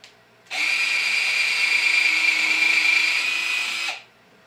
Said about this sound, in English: put it on the drill setting,